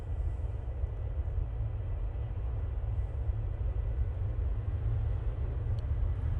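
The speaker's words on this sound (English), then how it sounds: "Right, Ryanair 737 on the roll." A Ryanair Boeing 737 on its takeoff roll at Manchester Airport, a steady, distant low rumble of jet engines holding evenly throughout with no talk.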